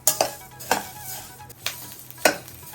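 Ground spices for homemade coriander and sambar powder stir-fried in a pan, giving a few sharp spatula scrapes spaced over a faint, steady sizzle, close by with no talking.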